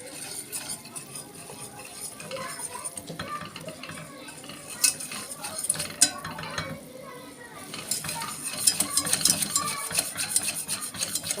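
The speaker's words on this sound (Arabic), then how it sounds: "اقلبه مع الزيت والسمنه" Flour is stirred with oil and ghee in a pot, a utensil scraping and knocking against the metal in an uneven rhythm with occasional clinks over a light sizzle, close by.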